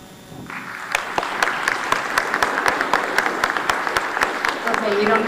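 An audience at a community think tank gathering in Hazelton claps steadily, a dense, even patter of many hands building and holding throughout, fairly close.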